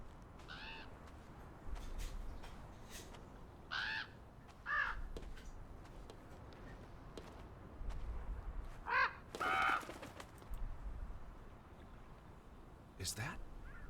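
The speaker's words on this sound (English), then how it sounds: "That bird's trying to get in." A bird trying to get in, in the game Draugen, gives several harsh crow-like caws scattered across the stretch, some close and loud, over quiet ambient background.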